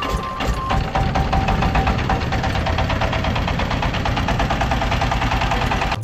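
A motor boat engine on the Jamuna river in Jamalpur runs with a loud, rapid knocking throb, its steady chugging rhythm continuous and close as the boat sets off.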